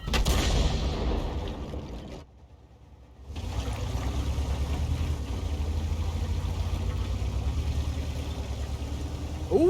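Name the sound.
tank cannon shot in a tank video game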